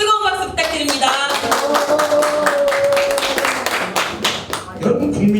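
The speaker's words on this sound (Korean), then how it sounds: "뜨거운 박수 부탁드립니다" Audience claps steadily and loudly at an indoor lecture, a dense patter of hands lasting several seconds with some tonal background sound mixed in.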